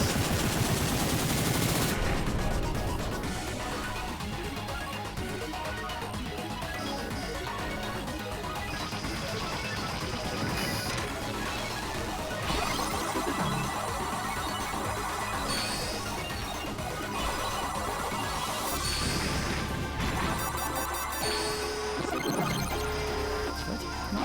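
Rapid gunfire and crashing explosions from the retro shooter game Drainus, dense and continuous blasts layered over game music with sharp bursts throughout.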